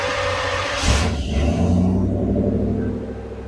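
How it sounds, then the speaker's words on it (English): A 1992 Chevrolet Camaro third-generation V8 cranks and catches near the mic, settling into a loud, deep, steady idle rumble with no talking. "All right, let's start the car."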